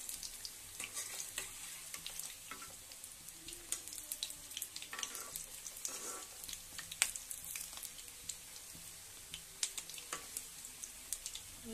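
Cabbage pakoras frying in oil in a kadai over a low flame, a soft continuous sizzle with scattered crackles and pops, fairly quiet and close, with no voices.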